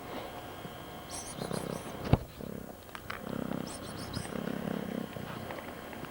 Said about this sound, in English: Say hi to Kitty.